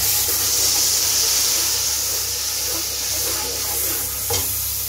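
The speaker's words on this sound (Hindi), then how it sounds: "अब इसमें मैं डालूँगी टमाटर प्यूरी" Tomato puree sizzling in a pan while being stirred for Kashmiri biryani, a steady close hiss with soft scraping and one brief louder clatter near the end.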